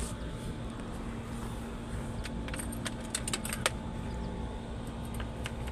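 Keys jangling and clinking close by, several bright metallic rattles in bursts over a steady low engine hum.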